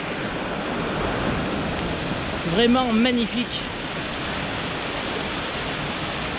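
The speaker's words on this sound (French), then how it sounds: "Et une deuxième cascade." A waterfall cascade swollen after a storm along a wild trout stream roars steadily and close, a dense broadband rush that never lets up while someone briefly speaks over it.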